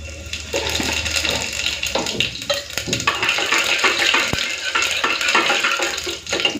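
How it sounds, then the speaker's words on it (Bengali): Whole cumin seeds hit hot mustard oil in a pressure cooker, setting off a loud, crackling sizzle that churns on steadily with scattered pops and scraping stirs. "সর্ষের তেলটা খুব ভালো মতো গরম হয়ে গেছে প্রথমে ফোড়ন দিচ্ছি গোটা জিরে"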